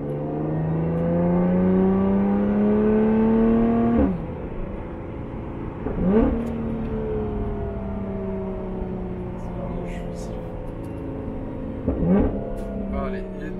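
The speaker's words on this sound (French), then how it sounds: "Ah, les downshift ils sont magnifiques." A Lotus Evora GT410 engine revs up hard and then drops through several sharp downshifts with throttle blips, heard from inside the car at moderate volume with no talking.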